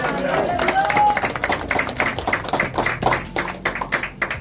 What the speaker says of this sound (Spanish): Un fuerte aplauso al Señor.